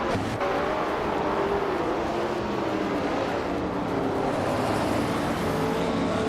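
A classic 1966 Ford GT40 MkI race car drives at speed, its engine a loud, steady, continuous roar with shifting tones throughout.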